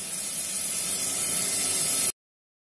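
Tomatoes dropped into a pan of fried potato masala set off a steady, loud sizzle and hiss that runs close and unbroken for about two seconds, then stops abruptly.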